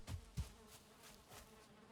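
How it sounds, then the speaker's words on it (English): Bees buzz faintly in the video game Valheim, a soft, thin drone with two brief low thumps near the start and no voices. "Oh, we got bees."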